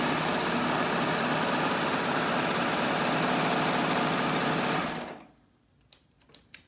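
A serger sewing a seam hums steadily and loudly for about five seconds, then winds down and stops, leaving a few faint clicks.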